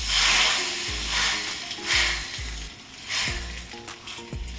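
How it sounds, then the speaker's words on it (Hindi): Loud, steady sizzling of spices tempering in hot oil in a kadhai for mixed dal kadhi, a continuous hiss with no talking. "अब कढ़ाई को मैं बड़े गैस पर कर रही हूँ। इसमें मैं तड़का लगा रही हूँ"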